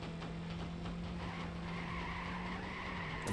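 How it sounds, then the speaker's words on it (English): A car drifts with a sustained tire skid in a racing video game on a canyon track, a continuous squealing whine with an engine drone underneath at moderate, even loudness. "And he has a better angle for the drift, and there he goes!"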